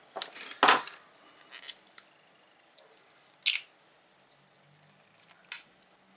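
Scissors cut through the plastic wrap on a laptop battery pack holding 18650 cells, making several sharp, crisp snips and crunches spread across the clip, close by and separated by quiet gaps, with no voices.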